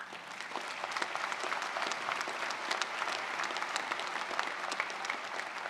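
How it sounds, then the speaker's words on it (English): Steady, dense applause from an audience at a labor union gathering, filling the whole stretch at an even level with no talking over it. "He deserves a round of applause."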